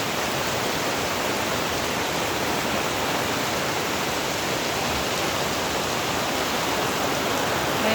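Heavy rain pours down steadily around a floating cottage, a dense, even hiss with no breaks and no voices.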